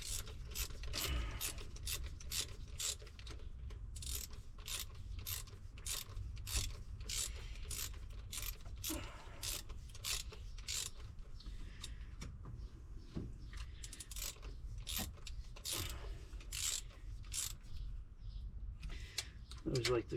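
A ratchet snugs down the bolts on an Edelbrock carburetor fitted to a small-block Chevy in a Vandura van, with a steady run of rapid, close pawl clicks over low background noise.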